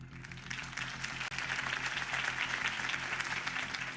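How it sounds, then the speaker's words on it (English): Crowd applause after a campaign speech in Batman: The Telltale Series, a dense, steady wash of clapping from many hands with a faint voice or two under it. "could have heard that applause"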